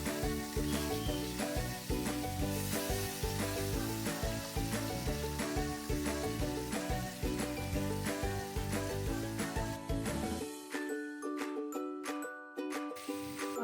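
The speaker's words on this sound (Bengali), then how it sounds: "হালকা করে টমেটোটা বাইজে নেব।" Chopped tomato fries in hot oil in a pan for a Bengali fish curry, a loud, continuous sizzle with rhythmic stirring scrapes that cut off abruptly near the end, leaving only faint clinks.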